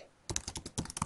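Quick burst of typing on a computer keyboard, about a dozen crisp close keystrokes in a short run after a brief quiet start.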